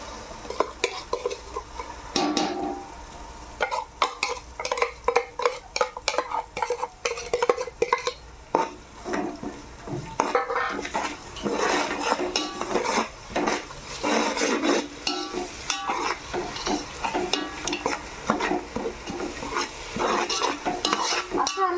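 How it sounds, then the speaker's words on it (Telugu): Ginger-garlic paste mixed with dry coconut frying in hot oil for mutton biryani pulao, with a steady loud sizzle and repeated scraping and clinking of a spoon stirring against the pot, no talking. "పచ్చివాసన పోయే ఇలాగా నూనెలో వేసుకుంటా"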